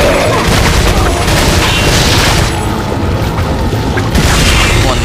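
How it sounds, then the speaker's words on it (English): Exploding barrel blowing up in the video game Resident Evil 4, a loud sustained booming blast with crashing debris lasting several seconds, dense and continuous with no talk. "it's got a decent amount of exploding barrels in it"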